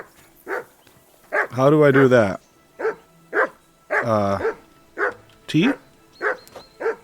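A dog barks repeatedly in Kingdom Come: Deliverance II, sharp single barks at a steady rhythm, close and loud, while someone talks between and over them.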